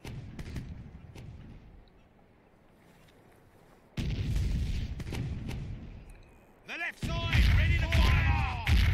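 Ship cannons fire in the Sea Dogs naval game, heavy booming blasts that come in bursts with a loud roar around four seconds and sharp swept tones near the end, under someone talking.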